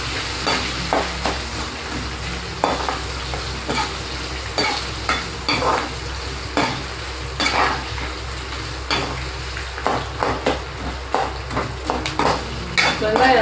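Onions sauté in a pan for rava upma, a steady sizzle under repeated scraping strokes of a spoon stirring against the metal, close and fairly loud.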